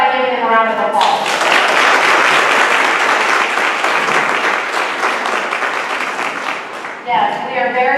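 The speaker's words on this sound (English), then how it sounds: "And let's start by giving them a round of applause." A school audience at Bush High School breaks into sustained applause for their hosts, dense clapping lasting about six seconds, with a voice speaking briefly before and after.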